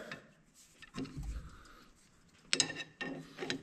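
Metallic clicks and small rattles come from a socket wrench extension being fitted during a tie rod installation on a KRX 1000; the sounds are faint and close, with a few sharper clacks near the end.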